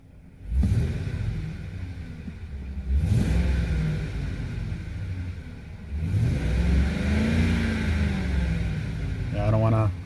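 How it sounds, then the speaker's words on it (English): A 2007 Ford F-150 pickup engine revs up several times, each rising rumble swelling and falling back to idle, loud and close, with a voice talking briefly near the end. "Let me rev it up for you."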